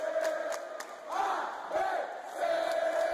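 A show intro vignette for a Natal football program about ABC Futebol Clube has a crowd of supporters chanting in unison under a musical jingle with rhythmic accents, and the chant swells and falls over a few seconds.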